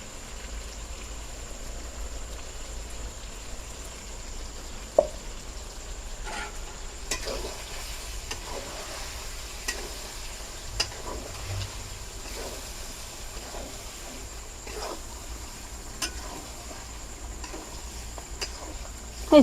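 Chicken frying in a pan with a freshly added spice paste gives a steady, soft sizzle, broken by occasional scrapes and clicks of stirring.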